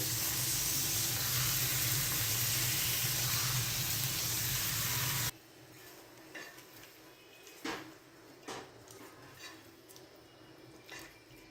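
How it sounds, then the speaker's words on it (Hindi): Chicken necks frying with garlic and ginger powder in a pot, a loud steady sizzle that cuts off abruptly, followed by quieter scattered clinks and scrapes of utensils against the pan. "अब यहाँ पर हम 5 से 7 मिनट के लिए इनकी भुनाई करेंगे"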